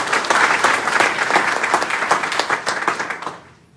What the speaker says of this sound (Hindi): फिर से एक ताली होनी चाहिए।